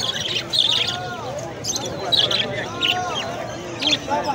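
Parakeets chirp in short bright bursts at a busy bird market in Recife, with caged birds for sale all around, heard amid crowd babble and nearby talk.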